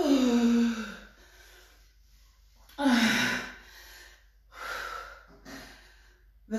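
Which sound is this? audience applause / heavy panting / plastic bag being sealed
heavy panting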